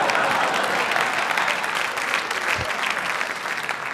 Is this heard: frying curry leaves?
no